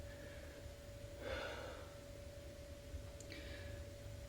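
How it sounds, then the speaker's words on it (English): Two soft, breathy exhalations spaced a couple of seconds apart during a stretching routine. Faint and close, against a quiet steady background hum. "And I'm breathing in, exhaling."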